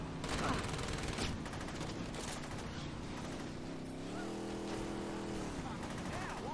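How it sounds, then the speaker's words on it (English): Video game gunfire in Saints Row as a buddy shoots from a car: loose bursts of shots under steady engine and road noise, with voices talking over the action. "Shoot them, my brochacho. Shoot them."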